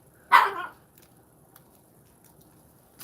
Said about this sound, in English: Got my dog barking in the background